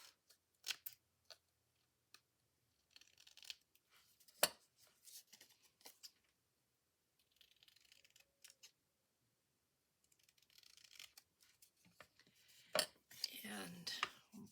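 Scissors snip through pink paper being trimmed for a journal tag, a few crisp, close cuts spaced apart amid soft handling rustle and quiet room tone.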